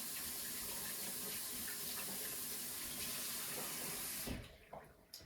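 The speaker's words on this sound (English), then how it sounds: "So also we rinse the lid here." Running tap water splashes steadily into a sink as a jar lid is rinsed, a close, continuous wash that cuts off abruptly near the end, leaving brief faint handling clatter.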